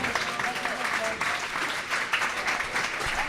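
Applause at a university squash home fixture after a match win: steady clapping from a small crowd, fairly close, running throughout with a commentator's voice under it.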